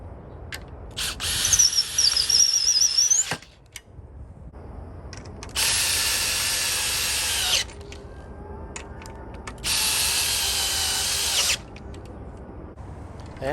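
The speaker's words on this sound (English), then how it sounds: "You pre-drill before you put in the lag screws that they come with." A power drill pre-drills pilot holes for the lag screws of stainless steel hangers on a garden porch swing frame. It whirs loudly in three separate bursts, with quieter pauses between them.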